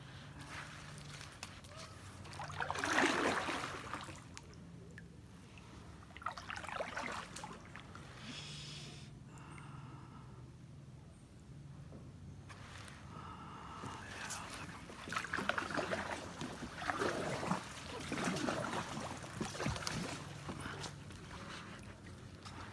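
Kayak paddles dip and swish through creek water in the Everglades' Half Way Creek, soft irregular splashes and drips repeating every few seconds, quiet and close, with faint talk at times.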